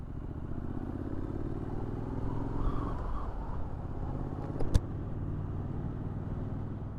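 Triumph Street Scrambler 2021 engine while riding in fourth gear at low revs near 60 km/h, a steady throbbing drone with a faint rattle and one sharp click midway, moderately loud and close.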